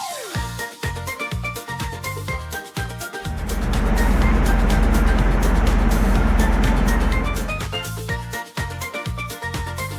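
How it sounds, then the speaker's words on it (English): An armored SWAT truck for police missions roars loudly through the middle few seconds with a powerful, sustained engine rumble over background music, which carries on alone before and after. "This is a SWAT truck."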